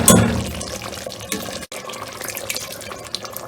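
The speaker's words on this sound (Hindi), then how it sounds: "हम 1 गिलास पानी ऐड कर रहे हैं इसमें" A glass of water poured into a cooking pot of shab daig, a short splashing rush of liquid, close and moderately loud with no talking.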